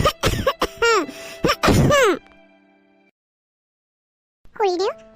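Harsh coughing from a woman in an Assamese cartoon story, a quick burst of several loud barking coughs, then a pause and one more cough.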